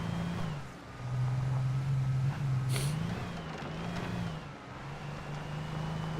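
Steady car engine hum from the mid-2000s video game Alan Wake, a low drone holding level with slight pitch shifts as the vehicle drives along, close and continuous with no talk.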